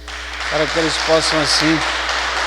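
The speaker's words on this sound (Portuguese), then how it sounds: "acolhê-los nessa manhã deste domingo com a salva de palmas" Congregation applause at a Sunday morning Mass, a steady wash of clapping running underneath someone speaking.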